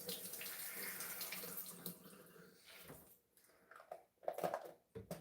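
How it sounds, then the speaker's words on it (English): Tap water runs into a soap bottle, a close steady gush that breaks into uneven bubbling spurts and brief gaps as the bottle fills. "I'm going to put water in it."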